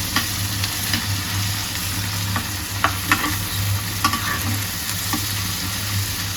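Fish fries in a pan with a continuous close sizzle and crackle, broken by a few sharp clinks and scrapes of a spatula.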